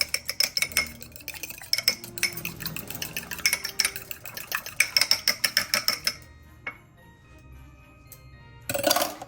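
Egg is whisked in a bowl for dinner-roll dough: a quick, rhythmic clinking of a utensil against the bowl, close and fairly clear, then it stops, with a brief clatter at the end.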